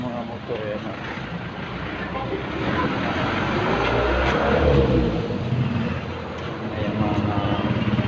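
Motorcycles at a motorcycle shop in Cavite, with a loud engine revving up and holding steadily throughout, swelling mid-clip, over a continuous rumbling background.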